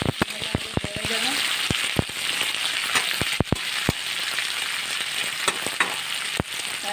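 Chopped onions fry in hot oil in a pan while being stirred for an Odia-style prawn curry, a close, continuous sizzle broken by sharp spatters and pops.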